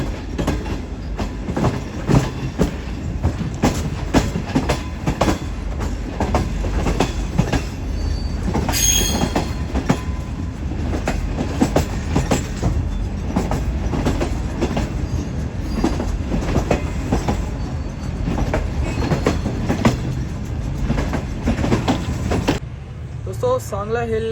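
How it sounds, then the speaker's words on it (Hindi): Shalimar Express train pulling into Sangla Hill station, a steady loud rumble and clatter of wheels and carriages throughout, with brief squeals and a sharp high tone partway, fading as the train comes to rest; people talk over it. "सांगला हिल स्टेशन पर हमारी ट्रेन रुक गई है"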